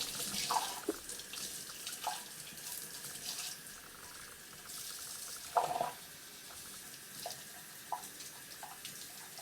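Tap water runs steadily into a sink or basin at moderate distance, waiting to warm up before a hair rinse, with occasional louder splashes and drips breaking the continuous hiss.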